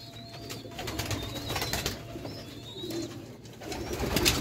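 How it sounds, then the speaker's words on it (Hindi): Teddy pigeons coo in soft, overlapping throaty calls nearby, with a brief flutter of wings and occasional higher chirps from other birds in the background. "तो भाई जरा टैडी कबूतर"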